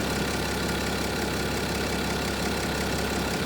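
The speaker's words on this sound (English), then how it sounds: "I like the sound of a BMW engine. They're quite, obviously it's a V6 diesel" A BMW X5's V6 diesel engine idles steadily nearby, a continuous low rumble with a slight knocking texture and no pauses.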